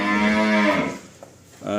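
A Holstein Friesian dairy cow at a farm gives one long, loud, close moo that fades out, followed by a brief pause and the start of another low call.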